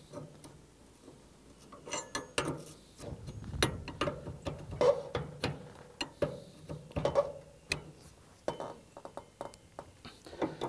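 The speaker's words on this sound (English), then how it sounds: "All right, we have tightened those up all the way." Wrenches tighten flare fittings on a MRCOOL mini-split air conditioner install, giving a long run of quick metallic ratchet-like clicks and ticks in uneven bursts, close and fairly quiet.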